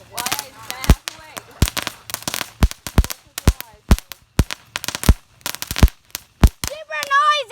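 Fireworks set off early for the Fourth of July crack and bang in a rapid irregular string of sharp nearby reports, with people's voices in between and at the end.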